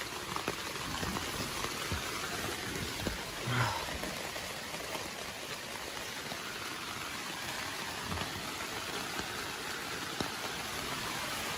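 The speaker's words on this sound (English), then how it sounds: "some crazy rain just came in" Heavy rain pours steadily in a dense, hissing wash, constant and loud throughout with no pauses.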